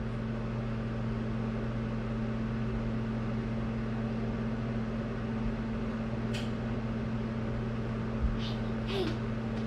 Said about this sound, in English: Microwave, microwave, microwave.